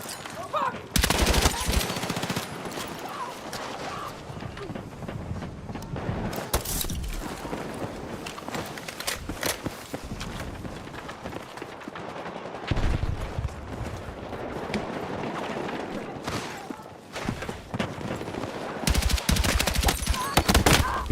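Bursts of automatic fire from an M39 rifle in a first-person shooter crack out in separate strings, with quieter gaps between them. Background game noise runs under the shots, and some faint talk may be present.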